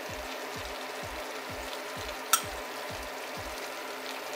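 Papdi and muthiya curry being stirred in a hot pan, a steady frying sizzle with a regular rhythmic scraping of the spoon, plus one brief metallic clink.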